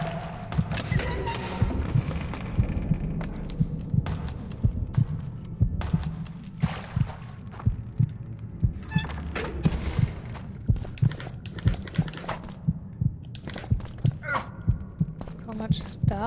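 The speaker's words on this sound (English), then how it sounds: "Very much just like the heartbeat sound." A steady, rhythmic heartbeat effect from the video game The Witcher 2: Assassins of Kings, thumping continuously under a low hum with scattered game sounds.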